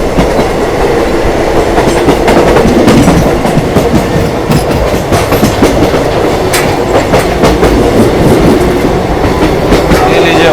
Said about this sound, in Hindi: फिर पूर्वा एक्सप्रेस को फिर से ओवरटेक कर दिया अपनी स्पेशल ट्रेन ने भाई